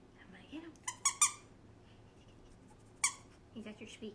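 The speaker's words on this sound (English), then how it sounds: "I love when he plays because all you hear is squeak," A pet dog plays with a squeaky toy, giving a few short, sharp squeaks in quick bursts with a pause between them, heard close by under low room noise while people talk softly in the background.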